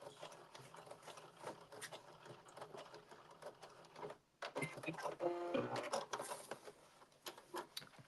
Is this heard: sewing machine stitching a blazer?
yes